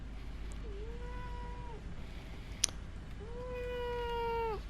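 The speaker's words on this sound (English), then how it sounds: "Cats." A cat meows twice indoors with clear, drawn-out mid-pitched calls, the second longer and louder, and a sharp click falls between them over faint background hum.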